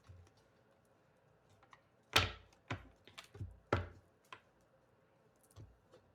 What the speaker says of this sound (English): give this a good shuffle